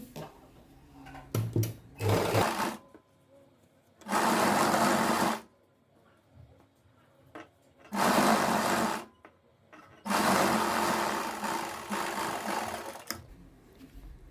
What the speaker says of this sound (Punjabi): ਬੁਕਰਮ ਦੇ ਉੱਪਰ ਸਲਾਈ ਲਾ ਦਾਂਗੇ